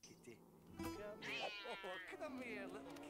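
A cat meows in the animated movie Shrek 2, a drawn-out, wavering cry heard over a person reacting and talking.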